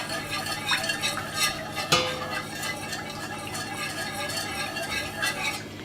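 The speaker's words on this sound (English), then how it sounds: "A little bit more, and stir." A utensil scrapes and clinks around inside a pot of macaroni and cheese in quick repeated strokes, close up, with a faint sizzle underneath.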